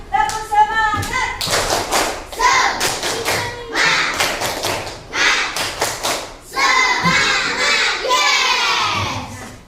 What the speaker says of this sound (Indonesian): Kita tepuk semangat dulu ya. Tepuk semangat.